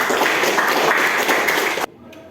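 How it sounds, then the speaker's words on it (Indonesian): A high school classroom of students applauds a classmate in a dense burst of clapping that stops abruptly, leaving near silence. "Tepuk tangan untuk adik."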